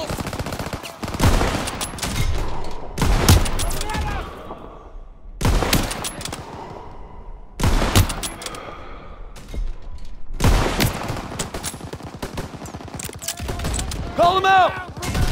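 Battle gunfire in Call of Duty: WWII, with heavy bursts of rifle and machine-gun fire arriving in several loud clusters separated by short lulls, close and punchy, with metallic mechanical clicks toward the end.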